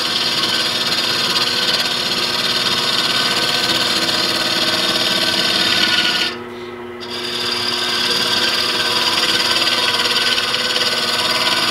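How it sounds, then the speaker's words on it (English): A carbide cutter slices wood into curled shavings with a steady, close rasping scrape that runs throughout and pauses briefly once near the middle before resuming. "the difference between the carbide cutter, is watch the shavings pile up here, making shavings instead of sawdust"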